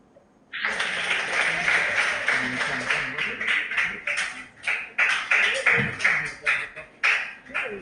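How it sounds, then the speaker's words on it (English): Audience applause at a regional school quiz contest, starting abruptly and holding as a steady wash of clapping before breaking into rhythmic, uneven bursts toward the end. "Let's give them a big round of applause."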